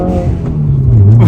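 Subaru WRX turbo engine accelerating, a loud close rumble and rising rev with a brief airy whoosh of the blow-off valve as throttle lifts, no talking.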